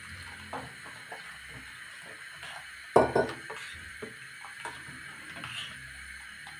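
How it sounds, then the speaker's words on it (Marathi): A spoon stirs rice batter in a metal vessel, giving soft wet swishes and scattered light clinks, with one louder clatter partway through. "असं ढवळून घ्यायचं मस्तपैकी."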